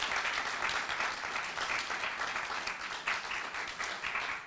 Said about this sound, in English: Y'all need to give these gentlemen a round of applause.